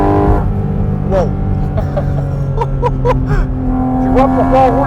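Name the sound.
Porsche car engine roaring while driving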